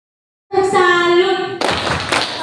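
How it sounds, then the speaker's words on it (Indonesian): Audience claps at a school Bulan Bahasa language-month event. A brief sustained tone comes first, then a short, close burst of lively hand clapping. "Kita berikan aplaus yang meriah."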